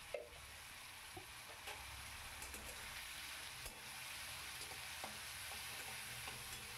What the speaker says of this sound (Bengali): এবার এই আলুটাকে সুন্দর করে ওপর নিচ নাড়াচাড়া করে একটু কষিয়ে নেব